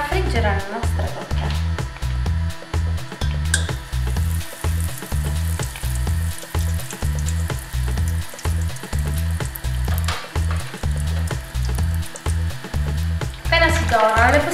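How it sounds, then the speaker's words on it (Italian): Milk croquettes, Sicilian rotisserie style, frying in hot oil with a steady sizzle, overlaid by a loud repeating rhythmic pulse and some talk near the start and end. "Iniziamo a friggere la nostra crocchè."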